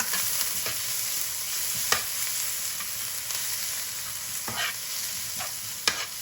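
Vegetables including wombok stir-frying in a pan, a continuous close sizzle broken by periodic scraping and clacking bursts as tongs toss them, with no talking.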